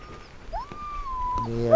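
Sled dogs on a walk with their musher give a long rising whine that holds level for about a second, followed by a sharp yelp and a harmonic howl starting at the end, heard close and fairly loud.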